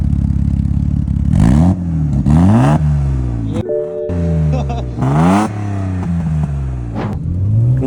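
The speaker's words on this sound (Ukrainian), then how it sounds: "Завелась поганенько. Там погазуй." A BMW E34 engine, running roughly after a poor start, is revved hard in repeated bursts, each climbing and falling in pitch with a brief dip near the middle, loud and close, with a clattering undertone.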